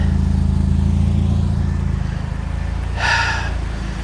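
A supercharged Chevy Cobalt SS sits idling with a steady, close engine drone and a low rhythmic pulse, broken near the end by a brief hissing burst.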